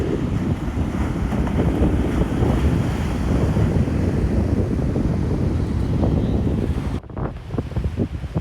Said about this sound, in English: You can hear the ocean.